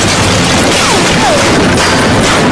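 Gunfire in an action film scene comes as a loud, dense burst of crashing blasts and booms that fills the whole short stretch without a break.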